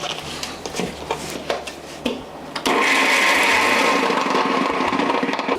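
A kitchen mixer grinder blends coconut chutney with chillies, ginger and garlic. A few light clinks and taps come first, then the motor starts with a sudden jump into a loud, steady whirring grind that holds unbroken until the end.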